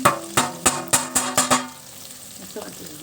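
Chopped onions with chillies and curry leaves fry in a pan, a rhythmic run of six or seven quick stirring scrapes over a sizzle, then the stirring stops and a quieter hiss continues with a faint knock.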